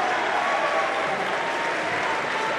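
Crowd applause fills a high school varsity boys basketball gym, a steady dense clapping roar at moderate distance that holds evenly for a few seconds with no break.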